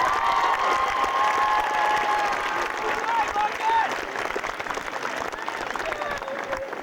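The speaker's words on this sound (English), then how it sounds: "You can applaud now." Sustained audience applause fills a graduation ceremony at UC Santa Barbara, dense and steady throughout with crowd murmur mixed in, tapering slightly toward the end.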